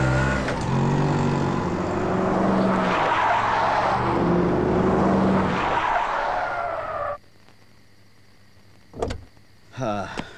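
An auto rickshaw skids loudly to a stop on a street, a long harsh screech with engine noise lasting several seconds and then cutting off sharply, followed by quiet and a couple of brief knocks near the end.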